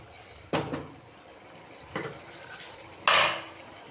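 A spoon scrapes and clanks against a pan while masala bhindi with curd is stirred, three distinct clattering strokes spaced over a few seconds above a low background hiss.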